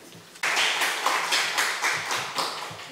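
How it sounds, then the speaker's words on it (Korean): A church congregation breaks into loud applause to welcome a speaker, the clapping starting abruptly and continuing close and steady with a few rhythmic swells. "우리 함께 할렐루야 또 큰 박수로 환영해 주시고"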